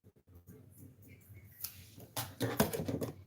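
Scissors cutting away excess interfacing fabric, a few soft, close snips and rustles followed by louder crisp cutting and paper-like crinkling of the material near the end.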